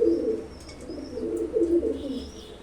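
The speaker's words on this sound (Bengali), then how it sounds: "পায়রা হাতে রাখা যাচ্ছে না, এত টেম্পার পায়রা।" Competition kalanka pigeons coo steadily in a close, soft, rolling rhythm, with a few thin chirps mixed in and no voices.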